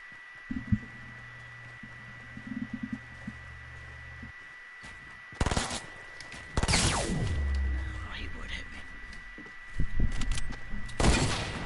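Bursts of gunfire from an online shooter video game ring out in sharp clusters, including pistol shots, with booming impacts and a steady tone underneath while players talk over the action.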